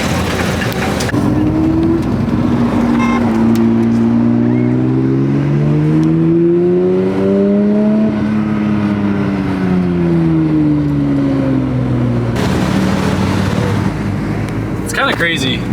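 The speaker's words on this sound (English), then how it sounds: "Bunch of cool cars here." A group of cars, including a manual Porsche 992 GT3, drives out together under police escort: a loud, steady engine drone whose pitch rises and falls as the cars accelerate and ease off nearby.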